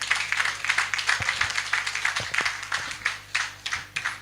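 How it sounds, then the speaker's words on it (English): A crowd applauding at a 70th birthday celebration for Ambassador Lawal, the clapping steady and rhythmic, moderately loud, with a low background hum. "Can I have a round of applause one more time, please?"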